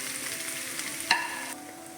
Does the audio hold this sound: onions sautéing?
yes